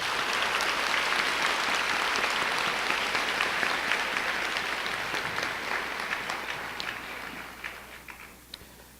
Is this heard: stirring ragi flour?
no